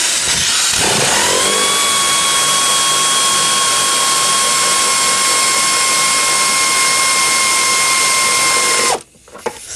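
Power tool, likely an air ratchet, removing strut mount bolts in the trunk of a Chrysler Sebring: a loud, continuous high whine that holds steady for about eight seconds and then cuts off abruptly.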